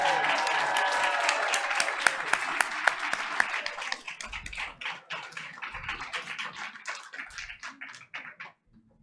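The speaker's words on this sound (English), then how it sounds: "I hope you're ready to keep that energy going and clap and cheer" Audience at a school board meeting applauding a fourth grader, dense clapping that stays fairly loud and then thins into scattered individual claps as it fades toward the end.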